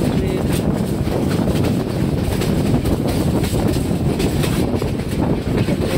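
A passenger train travelling through the countryside near Kauniya, Rangpur, gives a steady, loud rumble of wheels on rails with wind buffeting throughout, continuous with no clear breaks.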